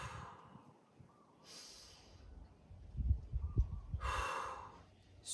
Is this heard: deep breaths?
yes